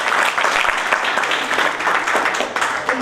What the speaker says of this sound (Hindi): तो उस विषय में डॉक्टर अमित डांगी के लिए तालियां।